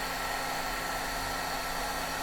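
A steady, airy whoosh from a heat tool blowing to melt embossing powder during heat embossing, a constant close blower hum with no breaks or talk.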